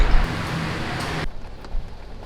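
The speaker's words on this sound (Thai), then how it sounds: "ตอนนี้ฝนตกหนักมาก" Heavy rain pours in Hua Hin, a loud dense wash that cuts off abruptly partway through, leaving a quieter muffled patter, as if heard from inside a car.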